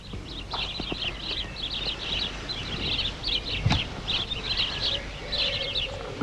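Repeated bird chirps and calls sound in steady bursts, with faint background noise and an occasional low thump; nobody speaks.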